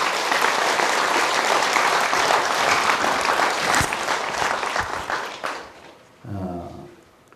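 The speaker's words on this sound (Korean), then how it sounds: "환영의 큰 박수를 주시기 바랍니다" Loud, sustained audience applause at a Saturday Buddhist temple service, steady for about five seconds before fading out, followed by a brief burst of speech.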